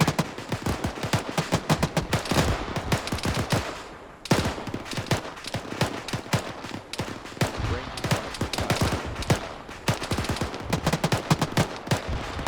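Gunfire rings out during platoon training in a field, with rapid, dense bursts of shots fired almost continuously. There is a brief lull partway through before the volleys resume.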